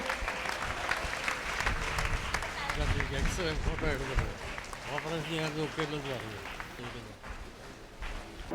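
A crowd claps steadily throughout at a church prayer service while a voice speaks or sings over the applause.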